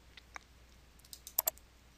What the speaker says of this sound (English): Now click OK.